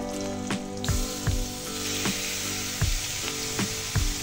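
Grated carrot and chopped green chilli frying with cumin in a pan, a dense steady sizzle punctuated by regular knocks of a spatula stirring, close and alone without speech.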